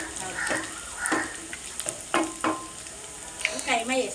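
Minced mutton keema sizzles in a pan while a spoon scrapes and stirs it in irregular strokes, close up over a steady frying hiss, with no voices.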